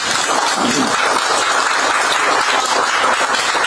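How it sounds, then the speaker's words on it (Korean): An audience at a Korean talk show claps in a dense, even wash of applause that holds at a constant level from start to finish. "그때는 박수를 치는 거야"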